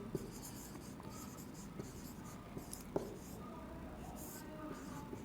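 A pen scratches across paper in short strokes and taps, quiet and close, with faint whispery room noise beneath.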